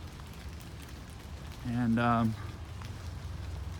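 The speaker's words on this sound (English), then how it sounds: "Maybe you can hear that it's raining." Steady rain falls in Rock Creek Park, a soft continuous hiss that stays level and fairly quiet throughout, briefly covered by a man's single spoken word in the middle.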